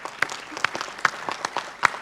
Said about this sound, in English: everyone, please give applause to all of them